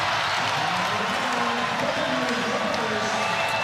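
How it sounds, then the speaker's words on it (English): Crowd at a college women's volleyball match between Houston and BYU cheering after a point, a loud sustained roar that fills the arena under a commentator's voice. "The crowd loving it."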